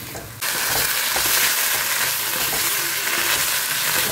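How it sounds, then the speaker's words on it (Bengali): Potato and cauliflower fry in oil in a pan with a loud, dense sizzle that flares suddenly after a brief quieter moment and then holds steady with faint stirring scrapes. "আলু ফুলকপিটা দিয়েও একটু কষাচ্ছি"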